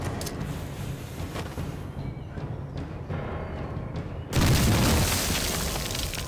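A hand grenade goes off in a war film after being thrown far, one sudden loud blast bursting in at about four seconds and ringing out through the rest over a rough, busy background of earlier noise.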